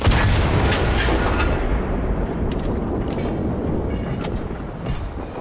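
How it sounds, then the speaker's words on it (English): Continuous loud, rumbling battlefield noise in the video game Enlisted, set around a railway station, as a tank's 105 mm cannon fires anti-infantry rounds, with sharp cracks of gunfire scattered over a dense low roar and no speech. "It's that 105 cannon, dude. It's a flipping beast."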